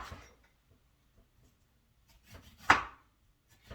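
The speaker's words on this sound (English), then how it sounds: "Now I'm going to chop it up or cut it." A knife chops food on a cutting board in an otherwise quiet kitchen: a few soft taps, then one sharp, loud chop close by.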